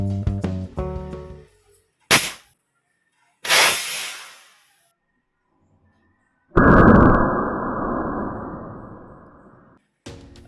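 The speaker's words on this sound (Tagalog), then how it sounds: "testingin na natin tong ating binubuong uh, paniksay CO2 air gun" A homemade CO2 air gun with a finished barrel and hammer-trigger assembly fires in sharp bursts, each shot a loud crack and hissing release of gas, followed by a long steady rush of escaping CO2 and a final pop.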